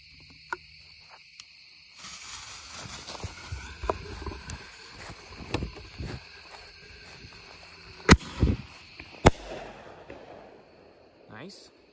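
Phantom Fireworks Blasteroids ball shells burst outdoors in a few sharp, loud cracks spread across the stretch, with quieter pops and crackle between them and a person talking in the background.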